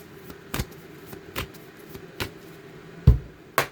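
A deck of oracle cards is shuffled by hand in a quiet room, with four or five sharp, brief riffling bursts spaced roughly a second apart and near silence between them.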